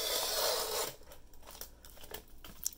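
Scissors cut a freshly laminated sticker sheet of watercolor paintings from a hand-cranked Xyron sticker maker. A loud papery rustle comes first, then a few faint, close snips and crinkles.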